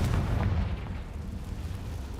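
The Confringo fire spell in Hogwarts Legacy goes off as a deep, rumbling explosive blast that swells at the start and rolls on as a low, noisy boom for a couple of seconds.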